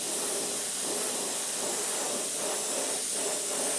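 An airbrush sprays sepia paint in a steady, close hiss, lightly coating a realistic crawfish crankbait lure all the way around with no pauses.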